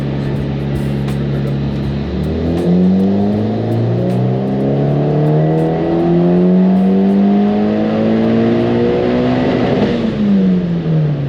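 A bolt-on Mitsubishi Evo X on a dyno, running 91 octane fuel, is held in a loud steady engine drone that climbs smoothly in pitch through a long pull toward 7,500 rpm, then drops sharply off the throttle near the end.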